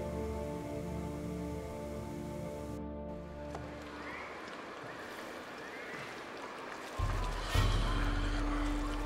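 Paddling a boat upstream in Uncharted: Golden Abyss, soft splashes and flowing water beneath a low ambient drone, faint and steady, with a louder swell of water near the end.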